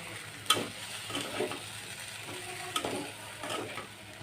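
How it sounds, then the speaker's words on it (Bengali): Chopped onion being stirred into chicken meat in a pan for a Bengali kosha bhuna curry, a soft sizzle under scraping spoon strokes with a few sharper clicks of the utensil against the pot, close and moderately quiet. "পেঁয়াজটা দিয়ে মাংসের সাথে একটু নাড়াচাড়া করে নিব"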